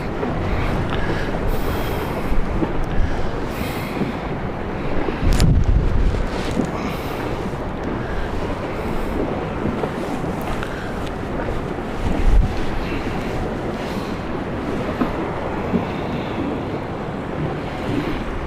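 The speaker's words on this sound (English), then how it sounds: "But the wind is actually really pushing us. That's how strong it is." Strong wind of about 20 knots roars continuously, buffeting the microphone in heavy gusts over a wash of water, with no voices.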